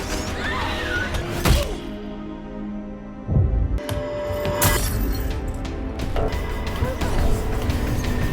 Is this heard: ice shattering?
yes